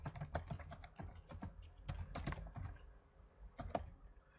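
Computer keyboard typing, a rapid run of crisp key clicks in irregular bursts with short pauses, close and clear with no voices.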